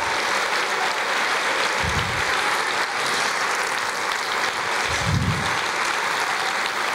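A church congregation claps continuously during a Portuguese-language worship service, a dense, loud, steady roar of hands with low rumbling thumps at two moments.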